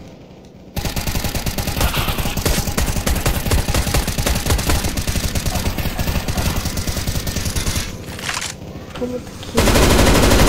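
Rapid automatic gunfire from CS:GO's zombie survival mod, dense, loud and sustained bursts with a short lull near the end before the shooting picks up again; a voice briefly speaks over it.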